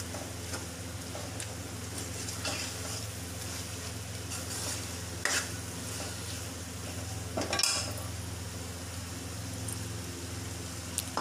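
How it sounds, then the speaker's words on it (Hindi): Potatoes fry in hot ghee in a curry pot with a steady sizzle, stirred by a spoon that scrapes and clinks against the pan, with sharper knocks near the middle and toward the end. "आलूओं को अच्छे से भून लेना है हमने।"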